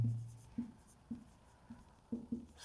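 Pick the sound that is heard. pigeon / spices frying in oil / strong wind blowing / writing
writing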